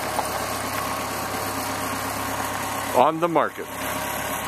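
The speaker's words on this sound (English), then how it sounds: "She's powered by a 120 horsepower Merc flathead 4 with an outdrive." A 120 hp Merc flathead four-cylinder with an outdrive idles aboard a 1969 19-foot Lyman runabout, a steady close low rumble broken near the end by a brief spoken phrase.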